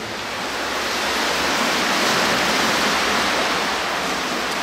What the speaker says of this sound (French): le bruit des vagues